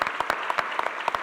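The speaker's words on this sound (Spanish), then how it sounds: "aplaudan sin miedo" Scattered applause from a panel audience, a handful of distinct claps with sharp separate hits rather than a full ovation, brief and moderately close.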